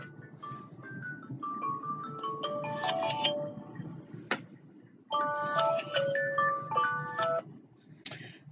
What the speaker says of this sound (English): now my timer has went off on my phone